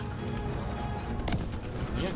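Scattered gunshots crack through a dense, noisy Call of Duty: WWII soundscape on the Hill 493 mission, with a sharp burst near the middle and muffled voices talking underneath.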